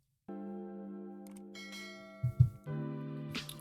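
A bell sounds near and loud with a sustained ringing tone and rich overtones, briefly broken by a couple of thuds before ringing again, with no talking.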